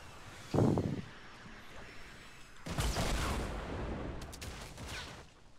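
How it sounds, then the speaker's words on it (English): Fortnite Battle Royale gunfire: a sharp, loud burst early on, then a denser stretch of shots and impacts in a busy game mix, with no talk over it. "Oh my god, they're shooting at me"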